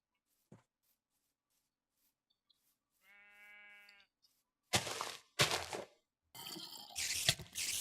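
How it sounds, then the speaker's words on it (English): A Minecraft sheep gives one clear, buzzy bleat in a quiet game scene, followed by several short bursts of other in-game noise. "We found ourselves a sheep."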